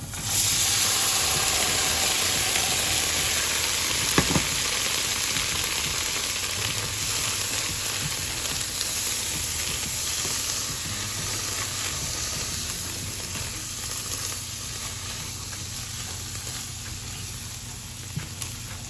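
Boiled black chickpeas hiss and sizzle steadily in a pan of fried tomato and onion for a chana curry, a continuous close frying sound with one brief clink partway through and no talking.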